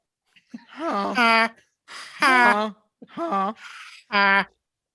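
A person imitates a goose with four loud, nasal honking calls in quick succession, each a harsh rising-falling honk, with short pauses between.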